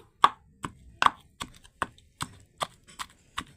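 Coriander leaves pounded with a pestle in a large mortar: about nine steady, evenly spaced thuds, close and crisp, with no voices.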